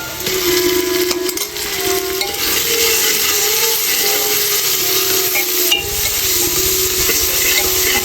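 Ginger garlic paste frying in a pot for a spicy thukpa, a loud continuous sizzle with stirring scrapes and the odd metallic knock, heard up close without speech.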